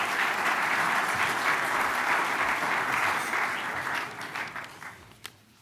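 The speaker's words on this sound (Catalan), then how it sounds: "Un aplaudiment per ell, sisplau." Audience applause after an address at a Catalan finance institute's 20th anniversary event for venture capital activity, a dense sustained clapping that stays loud for about four seconds, then thins and fades with a few last claps.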